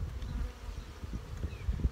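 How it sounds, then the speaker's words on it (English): Honey bees in an open hive used as a spent cell builder, fed on syrup, give a steady low buzz up close, with light knocks and handling noises now and then. "There's lots of bees in here still, so they're a builder."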